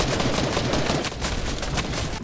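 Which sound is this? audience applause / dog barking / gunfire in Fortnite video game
gunfire in Fortnite video game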